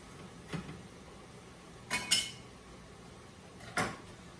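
A spoon knocks and scrapes against a pot of turkey soup, making three sparse clinks spaced about a second or more apart over a quiet background.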